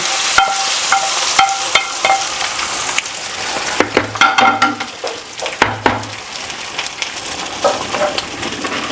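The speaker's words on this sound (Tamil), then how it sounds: "இப்போ வந்து தாளிப்பு சேர்த்துடலாம்" Hot oil sizzles and crackles in a pan as a tempering is added to a South Indian kuzhambu, with a few metallic clinks of a spoon and stirring, close and fairly loud.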